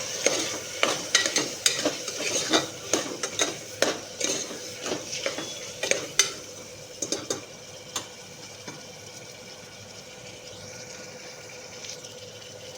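Eggplant and potatoes with ground coriander-cumin spice are stirred in oil, with rhythmic scraping strokes about twice a second over a soft sizzle, then the stirring stops and a quieter fry continues.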